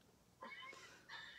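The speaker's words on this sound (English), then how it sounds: "he's just meowing" A cat meows twice nearby, a longer cry followed by a short one after a pause.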